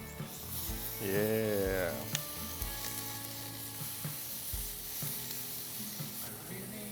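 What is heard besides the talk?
chicken shawarma being flipped and sizzling over grill flames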